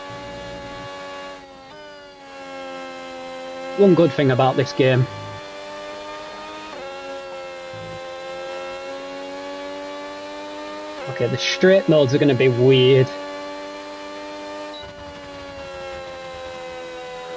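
Red Bull racing car engine in the iRacing sim at Silverstone, a steady harmonic whine with two louder bursts of rasping revs, someone talking over it throughout.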